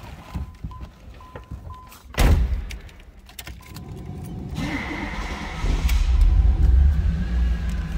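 A door thunks shut, keys jingle, then a 1988 Pontiac Firebird Trans Am engine cranks and catches, settling into a low steady idle rumble.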